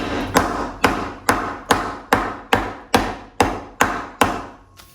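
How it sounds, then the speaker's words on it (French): Chocolate being crushed with a rolling pin, ten steady, evenly spaced thuds and knocks with short decays, close and moderately loud, without any speech. "on prend un rouleau à pâtisserie."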